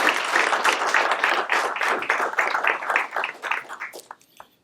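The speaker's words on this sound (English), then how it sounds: "please join me in a round of applause for all of tonight's sponsors." An audience at a Latino Leaders Network convention dinner applauds the evening's sponsors with dense, sustained clapping that gradually thins and tapers off to silence.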